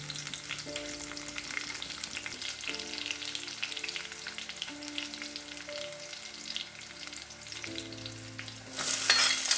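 Ginger and green chillies sautéing in a pan, a steady close sizzle with stirring scrapes and faint tonal hum, rising to a louder burst of frying near the end.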